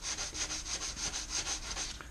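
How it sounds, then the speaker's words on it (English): Heavy sandpaper rubs back and forth on the wooden neck of a 1960s nylon-string classical guitar, a steady rhythmic rasp of about a dozen strokes, close and fairly quiet. "I've just got a little heavy sandpaper here, and I'm just going to work it little by little on each end"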